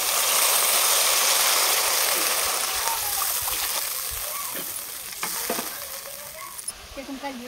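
Water poured into frying spices with cumin and green chillies for a rui fish kaliya curry, a loud broad rushing hiss that gradually fades into bubbling and scattered knocks.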